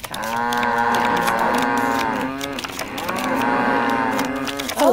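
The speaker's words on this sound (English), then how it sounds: "A lot of mooing." Cows in the Nancy Drew game The Shattered Medallion moo loudly and continuously, with overlapping drawn-out calls filling the whole stretch up close and no talking.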